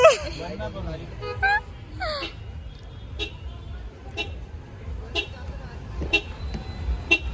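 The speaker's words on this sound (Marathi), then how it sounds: "किती ट्राफिक आहे इधर देखो" Busy road traffic during a crowded religious procession, with several short car horn toots sounding at intervals over a steady rumble of engines and distant crowd noise, plus a few voices nearby.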